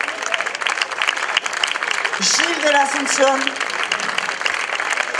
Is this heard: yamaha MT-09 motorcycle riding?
no